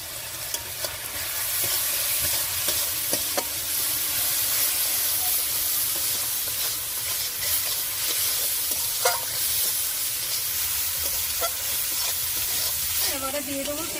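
Shrimp frying in a pan with chili paste, turmeric and salt, a loud, dense, continuous sizzle and hiss with occasional clinks of stirring.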